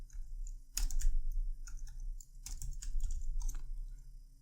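Someone types on a worn-out computer keyboard with irregular clusters of close, crisp key clicks over a steady low electrical hum, with no talking.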